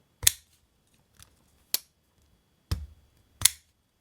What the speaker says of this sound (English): that's as hard as I can flip it open